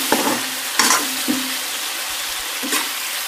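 Meat sizzles steadily in a hot pan, with a few sharp scrapes and clatters as it is stirred.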